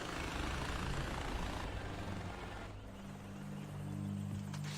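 A helicopter in the video game Far Cry 4 drones with a steady low rumble and whir, holding constant and fairly prominent for the whole stretch with no talking.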